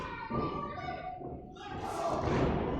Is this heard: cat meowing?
no